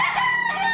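A Claret White Boston stag gamefowl rooster gives a short, close crow, heard alone.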